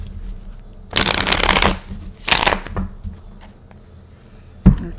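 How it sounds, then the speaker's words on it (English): Tarot cards are shuffled in two loud, close riffling bursts of about a second each, followed by a brief sharp tap of the deck near the end. "Gotta shuffle in for our Leo friends."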